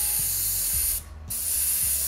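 Test spray from a paint spray gun used for basecoating miniatures: a loud continuous airy hiss that cuts out briefly mid-way and then resumes, with low rhythmic thumps of a compressor running beneath.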